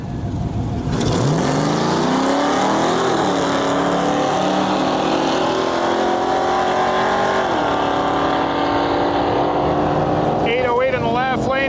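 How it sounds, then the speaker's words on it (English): A Fox body Mustang launches down a drag strip on the far side of the track, its engine roaring loud and sustained as it climbs through the revs with a gear change, with voices audible near the end. "Fox body, far side of the track."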